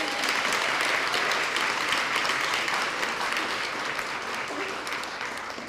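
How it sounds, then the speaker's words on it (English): Audience at a school meeting gives students a round of applause, a loud, dense, continuous wash of many hands clapping that holds steady and tapers slightly toward the end. "So if we can give all of our students another round of applause."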